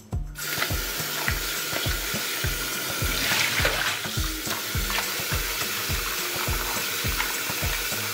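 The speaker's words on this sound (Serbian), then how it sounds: "limun sada nosim da operem pod mlazom hladne vode" Cold tap water runs steadily over a lemon being washed, a continuous broadband splash with a rhythmic low thumping underneath, close and fairly loud throughout.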